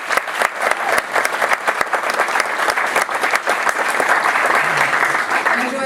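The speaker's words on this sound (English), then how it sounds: "please give yourselves another round of applause" Audience applause at a volunteer gala, dense sustained clapping from a large crowd filling the room, steady and loud throughout with occasional sharper individual claps.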